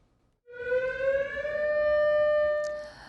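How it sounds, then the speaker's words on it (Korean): An air raid siren on Ulleungdo starts abruptly and wails loudly, its tone climbing and then holding steady, with nothing else audible. "오늘 울릉도 전역에 이렇게 공습경보가 사상 처음 발령됐습니다."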